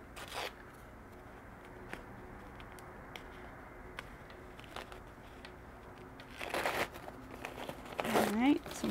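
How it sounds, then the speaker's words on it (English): Tear-away embroidery stabilizer is ripped out from around an in-the-hoop stitched sensory marble maze, loud broadband tearing bursts near the end after quiet ticking handling sounds, with a voice speaking. "I tear it out and I get rid of the tear away."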